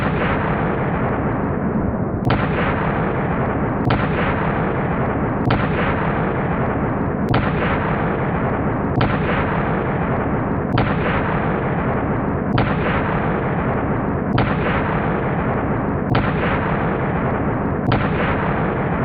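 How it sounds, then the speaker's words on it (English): Rapid string of 9mm shots from a Glock 19, 124 grain Underwood ammunition fired as fast as possible; about ten loud, evenly spaced heavy reports with a constant roaring background between them, no voices. "I'm going to do a mag dump. I have 15 rounds of 124 grain 9mm Underwood ammo"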